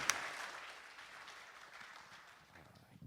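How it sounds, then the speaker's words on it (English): Audience applause at a live podcast show in Iowa City, a broad, steady wash of clapping from a crowd that fades slowly over a few seconds, with a faint sharp sound at the very end. "People applauded and all that."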